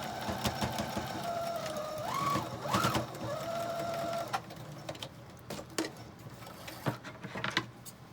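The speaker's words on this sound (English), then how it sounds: "Back under the sewing machine." A home sewing machine stitches a fabric seam in a steady mechanical whir with a couple of brief speed changes. It stops midway, followed by scattered faint handling clicks and taps.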